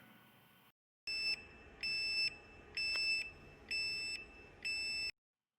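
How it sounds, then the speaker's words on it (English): A Radon Sentry monitor sounds its vacuum loss alarm: five loud, evenly spaced electronic beeps, each about half a second long with short gaps between them, piercing and close in a quiet room. "what you just witnessed there is a vacuum loss alarm"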